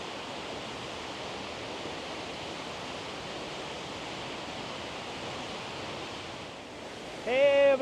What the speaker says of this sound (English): This is the first waterfall that we came to.